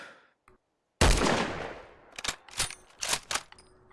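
Scoped rifle gunfire in Fallout 4 survival mode, one loud booming shot with a long decaying tail, followed by several quieter sharp cracks and clatters, with no talk.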